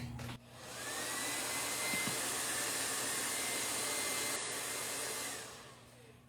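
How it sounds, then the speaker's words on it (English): A hair dryer switches on and runs with a loud, steady whooshing roar for about five seconds before clicking off. "I will use my hair dryer."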